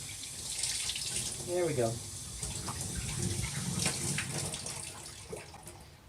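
Cold water runs from a tap to rinse out the tank of a Bissell 3624 SpotClean Professional portable carpet cleaner, a close, steady splashing stream while a person speaks briefly.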